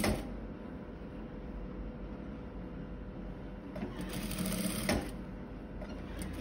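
Sewing machine stitching the seam of a placket collar, a steady, close mechanical whirr running throughout with a couple of brief louder clunks near the end, no talking.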